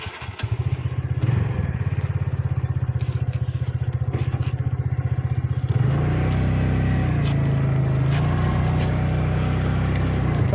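A TVS Ntorq 125 scooter with about 20,000 km on it fires up and idles with a close, steady putter, then the engine note rises and runs smoother and louder as it is revved in an open lot.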